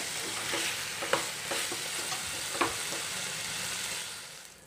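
Vegetables stir-fried in a pan with a teaspoon of oil for a chicken tikka samosa filling, giving a steady sizzle with a few sharp stirring clicks and scrapes, close and alone.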